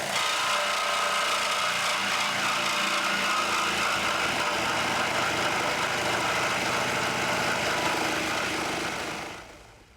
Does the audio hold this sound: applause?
no